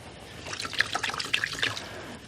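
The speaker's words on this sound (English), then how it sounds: "Wash off the old brush." An oil-paint brush is swished and rinsed in liquid, giving a close, brief splashing and trickling with small drips, sounding alone for about two seconds.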